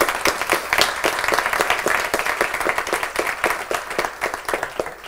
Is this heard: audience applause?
yes